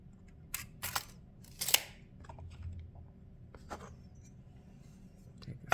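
A pencil drawing a light marking line across wood for a toolbox project: a few short, dry scratching strokes close up, separated by quiet pauses, with no talking.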